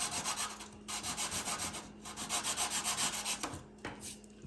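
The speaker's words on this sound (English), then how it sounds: "this is 150 grit sandpaper on this light balsam wood" Light balsa wood is sanded by hand with 150 grit sandpaper, a close, steady rasping that repeats in quick back-and-forth strokes, broken by a few short pauses.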